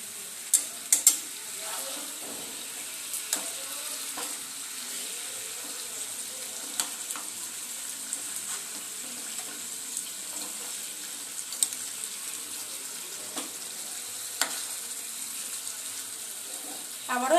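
Chicken tandoori pieces frying on a low flame in a lidded pan give a steady, soft sizzle throughout, with faint clicks and scrapes scattered over it and no talking.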